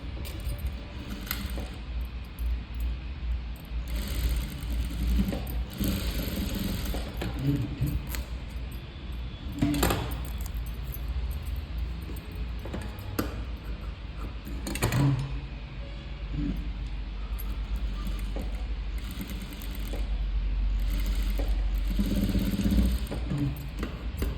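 A sewing machine stitching a crop top runs in a steady motor whir with a fast mechanical rhythm, broken by short pauses and clicks over about twenty seconds.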